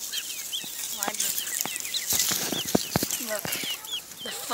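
Chickens cluck and call in quick, overlapping bursts close by, with a voice talking over them throughout.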